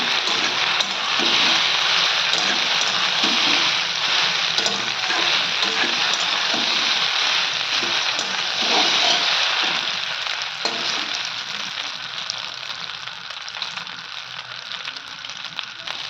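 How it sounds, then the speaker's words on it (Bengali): Pasta and egg sizzle steadily in a hot pan, with occasional scraping stirs; the frying crackle stays loud and close, easing slightly toward the end. "এখন একটু ভালো করে ভাজা ভাজা করে নেব"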